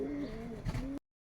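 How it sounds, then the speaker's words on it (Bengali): Male pigeons of Rajshahi Giribaz and Pakistani breeds coo close by in one steady low call that ends abruptly after about a second. "দুইটাই ভালো কবুতর"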